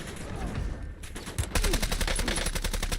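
In a shooter video game, enemy gunfire starts halfway through as rapid automatic fire, a dense, loud stream of fast cracks. Before that there is only a quieter background.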